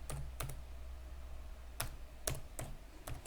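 Keys are typed on a computer keyboard while entering a text label in AutoCAD, with several short clusters of crisp clicks separated by pauses, close and fairly quiet, with no talking.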